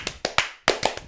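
A few sharp hand claps in a studio setting, five or six distinct slaps in an uneven rhythm with brief pauses, close and clear with no talking.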